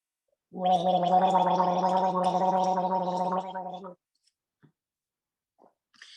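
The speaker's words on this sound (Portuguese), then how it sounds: "Golinho de água, gargarejo." A person gargles a small sip of water with voiced sound, one long continuous bubbling gurgle lasting about three seconds, close and loud, followed by a few faint clicks and near silence.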